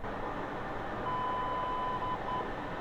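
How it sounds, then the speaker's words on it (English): Three steady electronic beeps from the F-14 radio encryptor powering up in DCS, sounding one after another over a constant low cockpit hum. "if you wait about 2 minutes, you're going to hear 3 beeps, and that means the encryptor is powered up"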